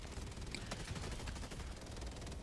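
Rapid gunfire from friendly troops in a chaotic sci-fi shooter battle against robots, dense crackling bursts running continuously for a couple of seconds amid a busy mix of weapons and effects.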